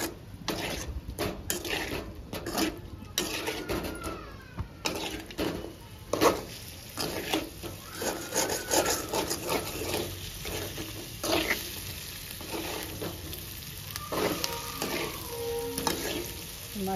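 Chicken coated in masala frying in a pan, a continuous close sizzle broken by frequent scraping stirs and clinks of a utensil against the metal pan.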